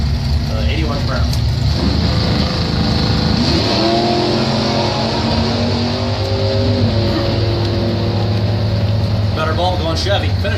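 Drag race between a 1969 Dodge Dart and a 1981 Chevrolet Camaro, loud sustained engine roar and revving at the strip with a track announcer talking over it throughout.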